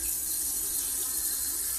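Water runs steadily from a tap in an apartment, a close, continuous hissing flow with no breaks or talking.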